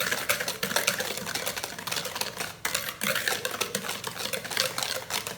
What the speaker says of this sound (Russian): Тоже хорошо вот так вот тщательно его взбиваем.